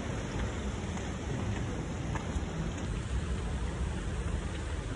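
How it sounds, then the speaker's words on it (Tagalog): Steady rain falls continuously on an outdoor surface in Hong Kong, a dense, even hiss with no break in intensity throughout. "ayan, umuulan."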